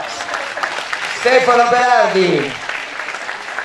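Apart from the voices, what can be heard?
applause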